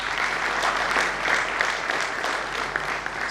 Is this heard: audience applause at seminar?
yes